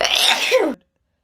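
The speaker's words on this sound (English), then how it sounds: "I need to sneeze." A single person's sneeze, loud and close, a sharp burst with a brief voiced tail, then silence.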